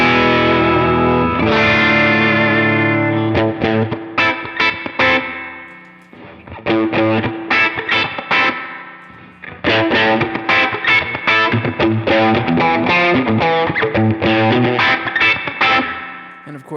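Electric guitar through a Line 6 HX Stomp psychedelic surf preset, loud distorted chords with choppy, rapid rhythmic strumming and washy chorus and reverb throughout.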